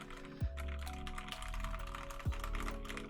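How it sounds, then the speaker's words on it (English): Typing on a newly built BBox60 mechanical keyboard with a POM plate: quick, uneven clacks and taps in a soft, continuous run, close and fairly quiet, with no talking. "I apologize for my typing, guys."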